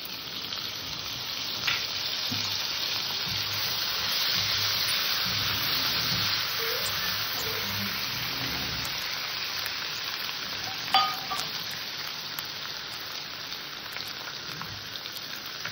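Ginger paste, turmeric and green chillies fry in a pan with a steady, even sizzle, close by, with a couple of light stirring knocks and no voices.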